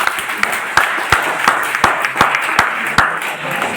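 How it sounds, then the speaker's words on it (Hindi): Audience at a network marketing training session breaks into loud applause, with sharp individual claps standing out in an uneven rhythm above the general clapping of a nearby crowd. "जोरदार तालियां आप सबके लिए दोस्तों"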